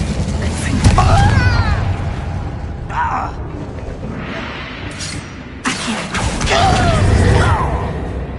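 Incendio fire spell cast in the video game Hogwarts Legacy: whooshing bursts and low booming rumble with magical swirling tones, loud and repeated, amid game ambience and a speaking voice.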